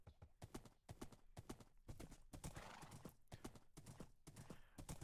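Hooves clip-clop in a steady quick rhythm as a horse moves through rush fields in modded Minecraft SevTech, close and clear, with a faint whinny and no talk over it.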